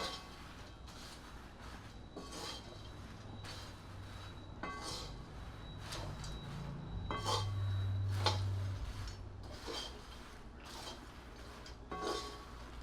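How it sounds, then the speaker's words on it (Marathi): Puffed sorghum chivda being tossed with jiravan masala in a vessel, giving a steady run of light metallic scrapes and clinks with rattling puffs, close by, and a low hum swelling in the middle. "हा आता मिक्स करून घ्यायचा आहे"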